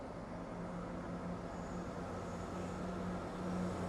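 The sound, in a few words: Cross Country Class 170 Turbostar diesel train at Derby station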